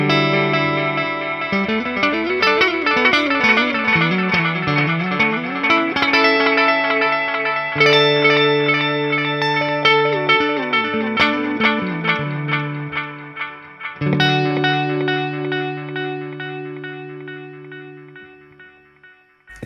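Ambient electric guitar with delay mix and tone cranked: bright picked notes smear into dense repeating echoes that pile up, then ring out and fade slowly at the end.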